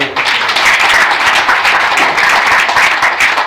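An audience at a devotional talk on Shiva and the Sharanas bursts into sustained applause, dense loud clapping from many hands filling the whole stretch without a break.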